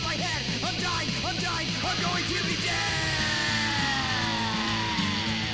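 A recorded yelling scream within a song, loud and sustained with warbling, rising and falling pitch sweeps over dense music.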